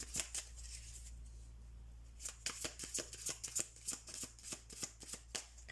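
Oracle cards being shuffled, a soft papery rush followed by a rapid run of crisp riffling flicks and taps, close and fairly quiet with no talking.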